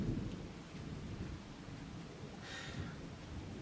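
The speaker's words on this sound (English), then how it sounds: "It's raining!" Steady rain with low rumbling thunder in a video game, a continuous wash of rainfall with a brief brighter crackle partway through, no voices.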